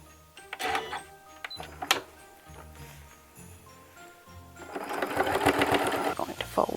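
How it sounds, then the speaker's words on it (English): A sewing machine stitches down a fabric seam, running in short stop-start bursts of rapid needle clatter, then a longer steady run. Faint talk sits in the pauses. "we're going to sew down this seam first, and then we'll put the last stitch in the bottom"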